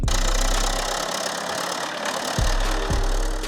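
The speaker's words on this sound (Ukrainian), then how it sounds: "Центральною вулицею їде трактор при кермі Михайло." A tractor drives along a village's central street, its engine chugging steadily with a low, rough rumble and periodic knocks, close and fairly loud throughout.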